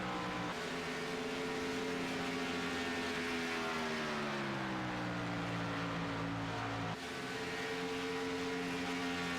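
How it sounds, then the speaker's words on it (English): Steady race car engine drone from a sim racing game, an AMA Pro Cup e-sport event at Las Vegas with a Ford Mustang circling, droning with shifting pitch that dips then resets, continuous and fairly faint. "Rolling around, getting his car up to speed."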